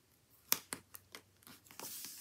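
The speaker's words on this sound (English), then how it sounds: "I'm just gonna cut this sticker here." Scissors snipping a sticker for an Erin Condren petite planner, a quiet series of about seven separate crisp snips with a short rustle of paper, close and alone.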